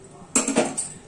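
A metal lid is set onto a cooking pan of okra being cooked on the stove, giving a sharp close clank followed by a couple of quick rattling clinks as it settles.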